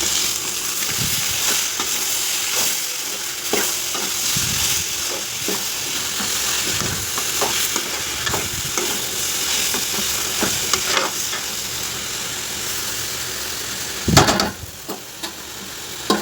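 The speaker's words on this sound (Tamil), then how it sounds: "ஆட் பண்ணி விட்டுட்டு அப்படியே கிளறி விடலாம் ஃப்ரெண்ட்ஸ்" Pieces of shark fish sizzle loudly in a pan with browned onions, stirred now and then with scraping spoon sounds, and the frying hiss stays continuous throughout.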